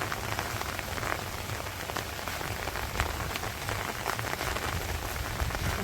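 Rain pours steadily in a Bangladeshi village during the rainy season, a dense, even hiss of drops hitting surfaces with scattered louder patters close by, no voices.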